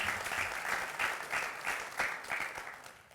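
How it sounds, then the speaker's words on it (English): Audience applause at a boys' graduation ceremony held in a borrowed hall, a full, steady round of clapping from many people, moderately loud and continuous without speech. "Let's give them a round of applause for making their building available to us."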